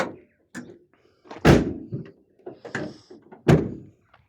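Several heavy doors of a 2019 Ford Transit Connect van thunk and clunk in turn, with a couple of louder slams and faint latch clicks between them, close by.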